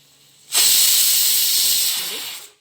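A pressure cooker whistle blowing off steam while carrots cook for halwa: a sudden loud, steady hiss lasting about two seconds before cutting off.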